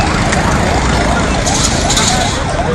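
Wailing emergency sirens cycle up and down repeatedly in the aftermath of an explosion. They are loud and dense over a thick wash of crowd noise and commotion.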